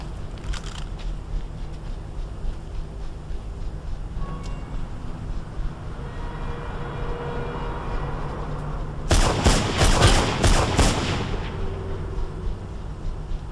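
Gunshots in the video game Mirror's Edge: sparse faint cracks over a low ambient rumble, then a loud dense burst of rapid firing lasting a couple of seconds before it fades back to background hum.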